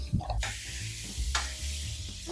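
Apples sizzle and crackle frying in a hot pan, with a couple of sharp hissing bursts as they're stirred, fairly quiet and close.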